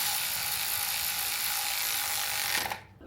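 A ratchet wrench clicks rapidly and steadily, tightening a bolt during spark plug installation on an ex-police undercover car, close and continuous before stopping abruptly near the end.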